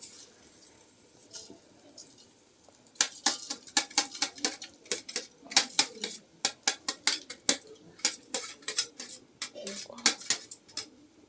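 Washed rice roasts in a pan with fried coconut for a traditional Konkan sweet rice, stirred with a spoon that scrapes and clinks in quick irregular strokes. Faint sizzling lies beneath, close and fairly quiet.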